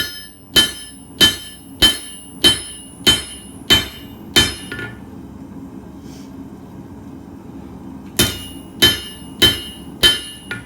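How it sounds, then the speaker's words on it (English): Hammer blows forging a square taper on an H-13 tool steel punch, a steady run of sharp ringing strikes about every half second, a pause of a few seconds with quiet hum, then the regular strikes resume. "you always want to be moving your hammer in the direction of which you want your taper to go."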